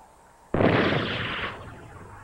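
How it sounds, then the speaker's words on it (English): Dynamite detonating inside a bomb carrier, a 3/4-inch thick boiler-like steel container with a sand-lined bottom that directs the blast upward: a single sharp, loud boom followed by a roaring, slowly fading rumble. "The design of the carrier directs the force of the explosion upward from the sand-lined bottom of this 3/4-inch thick boiler-like container."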